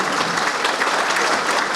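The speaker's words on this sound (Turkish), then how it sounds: "Onun için ayrıca bir alkış istiyorum başkanıma." Applause from an audience at a mayor's meeting with neighbourhood headmen of Tarsus and Çamlıyayla, a thick, even burst of many hands clapping at once, loud and unbroken.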